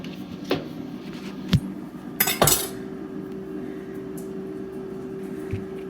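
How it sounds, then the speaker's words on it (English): Two small avocados being sliced with a knife on a board, heard as a few soft cuts and clinks followed by a brief clatter of utensils, with a faint steady hum behind. "Okay, we're gonna cut up 2 small avocados."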